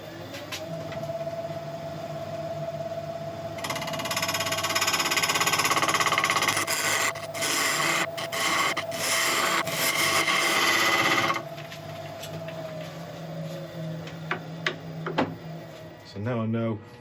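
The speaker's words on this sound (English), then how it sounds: "I'm just going to get a skew and just cut in to try and make sure that the top of this piece is all one" Skew chisel cutting into the rim of a wooden bowl on a lathe, a scraping, rasping cut over the running lathe hum, with sharp intermittent bursts as the edge engages and lifts off.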